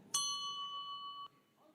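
A single bell chime rings at the start of a political election speech, one clear metallic strike that rings on for about a second before fading, over a faint quiet room.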